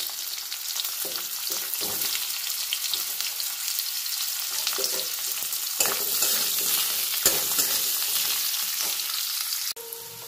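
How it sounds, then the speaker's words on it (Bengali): Long-cut potato and radish frying in oil in a pan, a dense steady sizzle with occasional spoon stirs and scrapes, close and even, no speech. "আলু আর মূলোটা কিছুক্ষণ তেলে ভেজে নেওয়ার পর"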